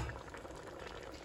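Water bubbles at a rolling boil in a pot with meat and potatoes, a soft, steady burble heard close but faint for a brief moment.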